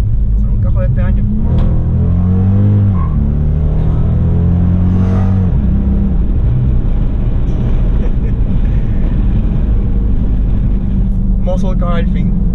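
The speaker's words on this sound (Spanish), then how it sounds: "Voy a dar los cambios aquí, pero no, la transmisión sí tiene su delay." A 2012 Dodge Charger SRT8 muscle car pulls hard under acceleration, its loud engine note rising and dropping as the transmission shifts gears, with a talking voice over much of the drive.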